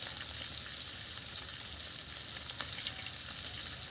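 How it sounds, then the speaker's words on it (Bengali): Washed fish frying in a pan on a stove, making a constant hissing sizzle at close range, fairly quiet and even throughout, with no speech. "এখন আমি মাছগুলো ভালো করে ধুয়ে নিয়েছি। এখানে এই যে চুলায় দিয়ে দিয়েছি, ভেজে নিচ্ছি।"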